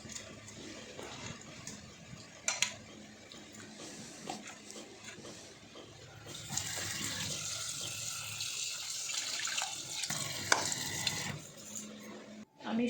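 Tap water runs while vegetables are rinsed in a home kitchen, faint handling noises at first, then a steady splashing stream from midway that continues to near the end.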